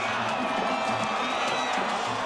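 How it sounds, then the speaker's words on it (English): A high school football crowd at a Weslaco Panthers versus Weslaco East Wildcats game roars in a steady, distant wash of cheering and whoops from the stands. "And the crowd is really going at it now."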